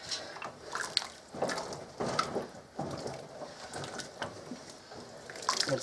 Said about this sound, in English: Mix it all up really good.